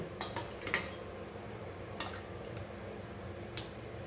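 A spoon clinks against a glass while stirring sago milk sherbet, a few sharp, close taps spread over a few quiet seconds.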